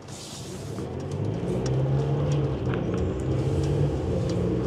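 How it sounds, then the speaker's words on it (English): Steady road traffic rumbles past a 2024 Airstream Atlas camper van built on a Mercedes chassis, heard from inside while it drives through rush hour, with a continuous low engine and tyre drone and passing vehicles swelling and fading. "Ooh, there's a lot of traffic."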